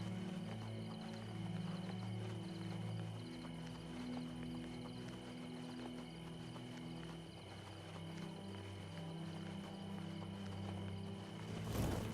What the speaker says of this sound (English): Like this young lady here is riding a horse, trotting.